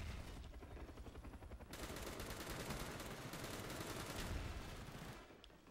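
Sentry gun firing in Call of Duty: Black Ops, a sustained rapid burst of automatic gunfire that thickens partway through and cuts off near the end, fairly close with no talk.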